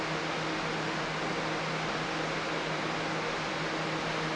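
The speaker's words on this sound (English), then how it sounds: "about how I despise the noise of the fan" A steady, broadband whirring hum of an electric fan running close by, constant and unbroken with a faint low tone underneath, no voices.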